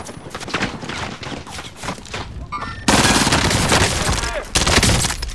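Rapid bursts of video game gunfire crackle close and loud, first in choppy volleys and then in a dense, sustained barrage of automatic fire.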